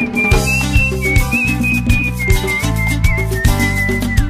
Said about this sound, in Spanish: Pero te la voy a silbar.